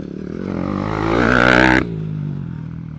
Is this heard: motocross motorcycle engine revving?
yes